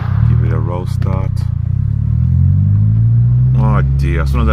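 An Audi S3 8L engine catches on a roll start and pulls away, a steady low hum rising in pitch as the car gets moving, with someone talking over it at the start and end.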